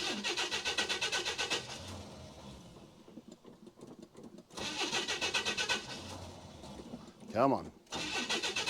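A 1979 GMC C15 square-body truck engine cranks in a few bursts, then catches and fires up near the mic, with a brief rev between attempts and someone talking over it.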